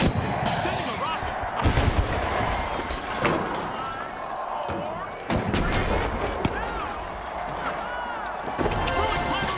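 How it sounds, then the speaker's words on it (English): Explosive launches and blasts from a rocket weapon in the shooter game THE FINALS, loud repeated booms and cracks amid a dense firefight, with voices calling out over the action. "Sending a rocket"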